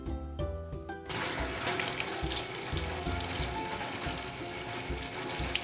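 Running tap water splashes steadily over fish being rinsed clean in a sink, a continuous close hiss and gurgle after a brief broken start, with no talking.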